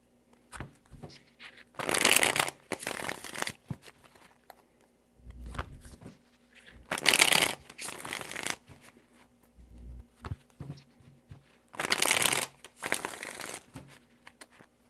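Tarot cards shuffled in three separate bursts of rapid riffling, each lasting a couple of seconds, close and fairly loud, with soft handling thumps and quiet gaps between them.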